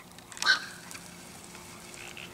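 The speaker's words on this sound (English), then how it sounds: "there are birds coming along here" A single short honking bird call rings out once, fairly near, over a quiet outdoor background with faint rustle.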